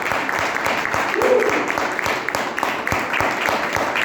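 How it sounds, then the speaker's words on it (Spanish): A church congregation claps during a Spanish-language sermon, a dense, steady round of applause heard from within the crowd with a faint voice underneath. "Denle un aplauso a Dios, por favor."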